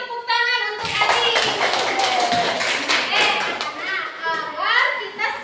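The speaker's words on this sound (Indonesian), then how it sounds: "Beri tepuk tangan untuk Adi." Children in a classroom clap their hands in a lively, patterned burst, mixed with excited children's voices and an adult speaking over them.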